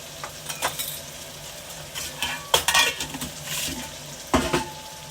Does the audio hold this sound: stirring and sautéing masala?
yes